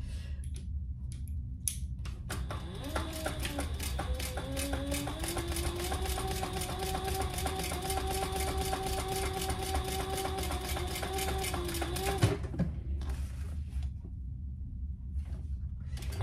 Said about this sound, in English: now you're going to top stitch along the edge.